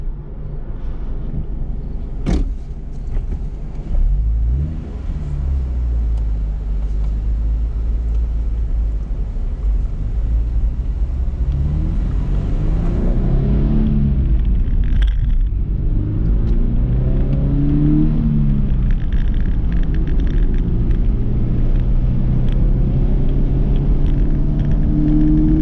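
A Toyota 86 sports car on a lap day at Shannonville race track, its engine droning loud and close throughout with repeated rising revs as it accelerates through gears.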